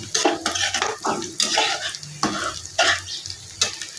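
Small pieces of rui fish fry and sizzle in a pan with spices as a spatula stirs them, with repeated scraping strokes over a steady close hiss; no one speaks.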